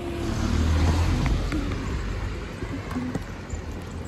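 A car passes close by on a street with a loud, steady rumble of road and engine noise that gradually eases.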